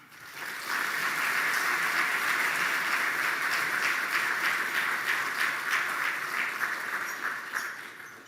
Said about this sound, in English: I ask you for a round of applause